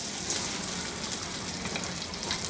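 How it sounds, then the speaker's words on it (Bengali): Steady, dense sizzling of onion frying in hot oil until soft, continuous and close, with faint crackles and no talking. "এর মধ্যে কিছু পেঁয়াজ আমি একটু ভেজে নেব নরম করে নেব"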